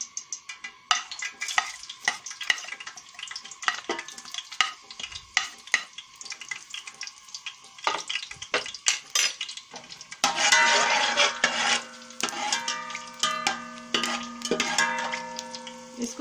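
Mixed garam masala and cumin frying in cooking oil for aloo matar pulao, with a utensil clicking and scraping against the pot, then a louder, denser sizzle that swells partway through and continues under the stirring.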